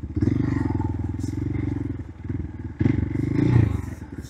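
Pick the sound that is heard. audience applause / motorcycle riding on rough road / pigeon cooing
motorcycle riding on rough road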